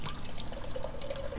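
A cooler tap pours chilled water in the video game SOMA, a short steady trickle of running liquid with a faint rising tone as it fills, close and alone.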